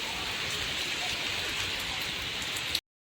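Dense, steady rain pours down with a hiss of countless drops hitting a surface, loud and unbroken, then cutting off abruptly.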